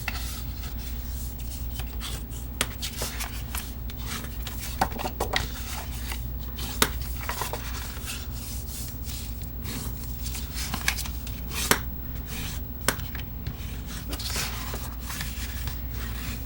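Scored cardstock being folded and burnished along its score lines, giving close, soft rubbing and scraping strokes with occasional sharp clicks, steady and fairly quiet.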